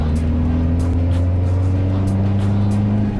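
A remapped 2.5-litre Mitsubishi Triton engine drones loudly and steadily from inside the cab while accelerating in third gear, its pitch climbing slowly.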